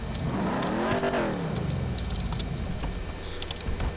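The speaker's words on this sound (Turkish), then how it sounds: "Abi en sevdiğim spor klasik araç şu. Harika bir sesi var." A classic sports car engine in GTA 5, a loud revving engine that climbs and falls in pitch early on, then settles into a steady running drone with no talking.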